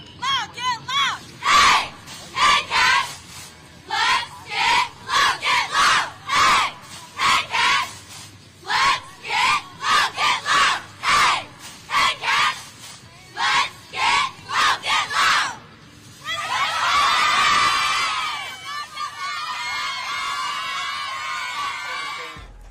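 Rival high school cheer squads at a Friday night football game, Summerville against West Ashley, shout rhythmic call-and-response chants in loud bursts, ending in a sustained roar of crowd cheering and screams.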